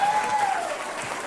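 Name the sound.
audience applause for a junior band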